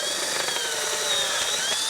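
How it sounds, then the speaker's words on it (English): A power drill steadily boring a hole of about 1/2 inch in a 2023 Vespa GTS while a folding rack is fitted, heard as a continuous close, high-pitched whine with no talking. "go ahead and drill that out"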